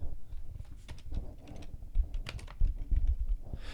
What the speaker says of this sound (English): started erasing characters and started typing out